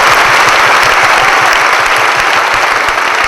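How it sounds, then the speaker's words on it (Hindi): An audience at a stage event gives loud, continuous applause, a dense and close wash of clapping that holds steady throughout. "इनके लिए भी एक जोरदार ताली बजा दीजिए प्लीज।"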